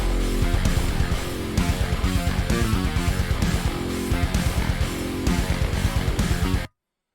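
The unmixed intro of a metal song plays with dense distorted guitars and pounding drums in a steady heavy rhythm, loud and raw, ending abruptly.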